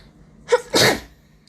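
A single human sneeze, close and loud: a short sharp intake followed by a burst of breathy noise, alone against near silence.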